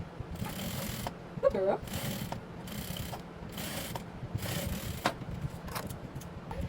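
A sewing machine top stitches an asooke kaftan in short repeated bursts of rattling mechanical whir, about five runs separated by brief pauses, close and moderately loud, with a short voice sound early on.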